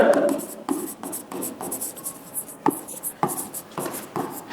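Marker or chalk writing on a board during a math lecture: quick scratchy strokes and taps in short bursts, heard close under a teacher's ongoing speech.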